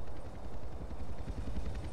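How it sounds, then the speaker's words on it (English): A helicopter in the video game GTA San Andreas, a modded Hunter chase, thrums with a low, steady rotor pulse, moderately faint and continuous with no talking over it. "I still hear a chopper."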